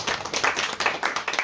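Audience applause at a literary conference for young authors, a short burst of quick, scattered hand claps from a small crowd, fairly close and clear.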